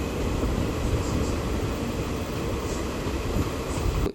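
A DEMU passenger train runs steadily through the Kacheguda outskirts in Hyderabad, a loud continuous rumble of wheels on track with a faint high squeal, heard close from onboard.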